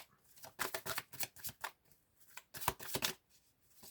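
Tarot cards being shuffled close by, a series of quick papery riffles and slaps in irregular bursts over a few seconds, with no talking.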